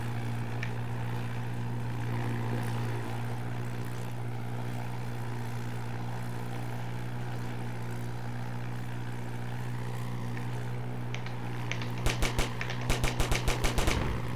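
A biplane's propeller engine drones steadily in a video game aerial dogfight, then sharp rapid bursts of machine gun fire crackle near the end.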